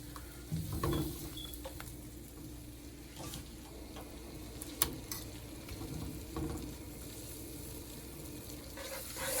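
Butter melts in a pot on the stove with a steady, faint frying sizzle and occasional soft clicks and stirring knocks.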